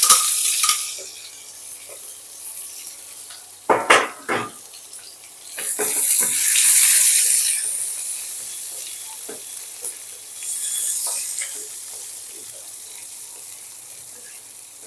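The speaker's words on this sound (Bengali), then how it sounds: "একটু সোনালি করে এগুলোকে ভাজতে হবে" A small chopped onion fries with garlic and tempering spices in hot oil, sizzling loudly and steadily up close while a spoon scrapes and stirs through it in intermittent strokes; nobody speaks.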